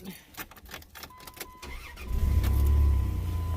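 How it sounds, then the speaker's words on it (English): Car engine starting after an oil change: faint clicks and rustling, then the engine catches with a low rumble that settles into a steady, fairly close idle, with no talking. "So just letting it fire up for a minute, the new oil go through."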